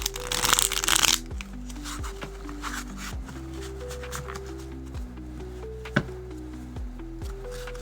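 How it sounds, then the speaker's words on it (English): Tarot cards are shuffled close up in a loud riffling burst, followed by a repeated rhythm of softer card slides and taps, with a faint musical tone running underneath. "I just want you guys to be able to hear the cards."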